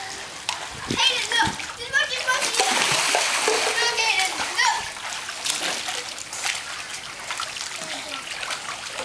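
A child swims and splashes in water, with repeated close splashes and sloshing. Children's voices and adult talk carry on over the water sounds.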